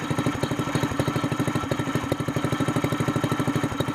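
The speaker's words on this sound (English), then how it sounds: "It's cheaper and it's not as loud, so it sounds like a four-wheeler now." A Honda GX200 torque-tube mud motor fitted with a Robertson's exhaust muffler runs at a steady idle close by, its rapid, even four-stroke pulses forming a continuous mid-low thrum with no voices.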